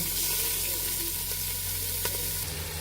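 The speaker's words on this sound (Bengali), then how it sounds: "ভালোভাবে পোলাওগুলো ভেজে নেব" Polao rice, a kilo of grain, frying in a pot for chicken biryani, giving a steady close broadband sizzle with faint stirring scrapes and a brief clink near the end.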